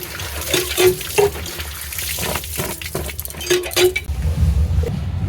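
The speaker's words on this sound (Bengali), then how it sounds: "কচুতে হাত দেওয়া লাগে না এরকম ঝুড়িতে ঝাঁকিয়ে ঝাঁকিয়ে ধুলেই হয়ে যায়" Taro being washed under a tap by shaking it in a basket, with running water and a series of rhythmic clinks and rattles, fairly close and loud, easing into quieter flowing water at the end.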